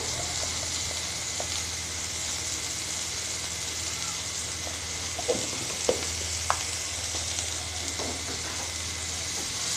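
Chopped green chilli fries in oil in a pan while vada pav filling is being cooked, giving a steady close sizzle with a few small pops and clinks.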